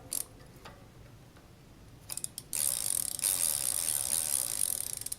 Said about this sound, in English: we'll give it just a little extra with the wrench